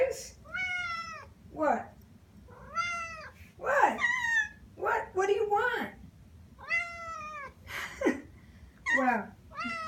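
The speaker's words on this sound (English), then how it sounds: "What are you meowing about?" Several house cats meowing repeatedly, close and clear, with rising and falling cries in an irregular series while a person talks to them between the calls.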